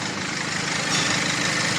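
A Toyota Innova engine idles in a repair shop while being checked for an oil leak. The running hum is close and steady, with an even low throb throughout.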